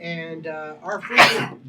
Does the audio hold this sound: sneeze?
yes